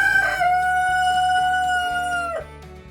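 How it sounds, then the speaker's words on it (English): A black copper Marans rooster crows once, loud and close, a long drawn-out call that holds steady before dropping off at the end, over a faint repeating background rhythm. "these very handsome black copper Marin roosters for breeding stock"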